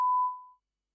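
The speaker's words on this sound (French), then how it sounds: "Vous avez entendu donc le bip" A single steady electronic censorship bleep, loud and clean, holding for about half a second before fading into silence.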